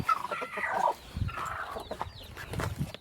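Several Rhode Island Red hens cluck in short, irregular bursts close by, with soft rustling between calls and no talking.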